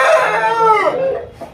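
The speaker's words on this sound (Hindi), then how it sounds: "सागर भाई के पास हमने मुर्गा मुर्गी छोड़ा था" A rooster crows once, close and loud, the long call rising and then falling away over about a second and a half. The bird belongs to a home-bred flock of chickens.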